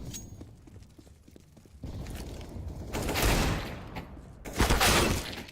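Gunfire in a Counter-Strike: Global Offensive collegiate esports match, with light clicking mechanisms giving way to two loud bursts of shots partway through and near the end, under a steady game-ambience background.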